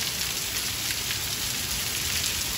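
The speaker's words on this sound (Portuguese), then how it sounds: "A chuva com vento agora." Heavy rain falls steadily with wind moving through the trees in Quixeramobim, Ceará, a dense, even hiss with no voices.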